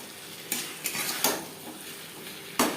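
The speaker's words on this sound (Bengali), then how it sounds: "মশলার সাথে ফুলকপি বেশ ভালো করে মিক্স করে দেবো" Cauliflower mixed with spices in a pan gives a low background sizzle, broken by several sharp clinks and scrapes of a utensil against the pan, with a final loud knock near the end.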